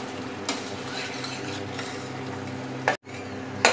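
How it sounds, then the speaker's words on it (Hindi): Peas stirred into fried masala in a pot for khoya matar, giving a continuous low sizzle with light scraping and a few utensil clinks, close and moderately quiet, with a sharp clatter near the end. "अब इसमें आप मटर डालें और जब तक मटर गल जाए तब तक इसको चलाते रहें"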